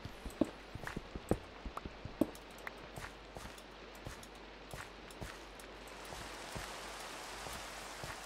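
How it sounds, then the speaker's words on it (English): Steady rain in Minecraft, heard as a soft, continuous hiss with scattered sharper drop ticks and a few light taps, fairly quiet and without voices. "Oh, it's raining."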